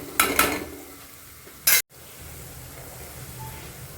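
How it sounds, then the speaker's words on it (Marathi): Spice masala sautéing in ghee for a dhaba-style milk and sev curry: a couple of quick scraping stirs and a loud clatter, then a low, faint sizzle carries on alone. "मसाल्याला 1-2 मिनिटं तुपामध्ये परतून घ्यायचं आहे।"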